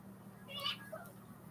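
A held cat meows once in a short, fairly faint call, with a soft, steady low hum underneath.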